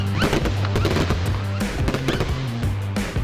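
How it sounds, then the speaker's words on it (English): A fireworks display at night crackles and pops in rapid, dense bursts, loud and continuous, over a sustained low droning tone. "finished her the night off with a fireworks display."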